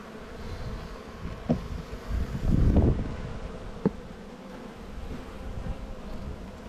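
Honey bees hum steadily around an opened, lightly smoked hive in spring, a close and continuous buzz with a few soft knocks and handling sounds of frames in between.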